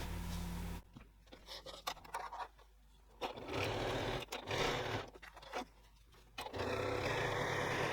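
A sewing machine stitches the seams of a zipper tote bag in several bursts of rapid mechanical whirring, separated by short pauses, heard up close with no talking.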